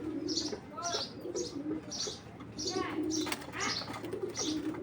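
Foreign racing pigeons coo close by in a loft, giving about eight soft, rolling, repeated calls in a steady rhythm against a low background hum.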